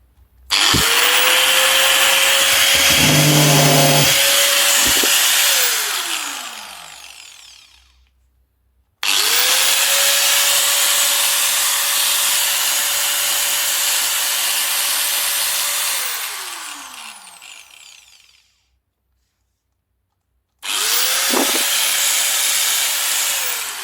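Makita GA5030 angle grinder fires up after a rotor replacement, three loud runs with a rising spin-up whine, steady high motor scream and a long falling wind-down, separated by silence.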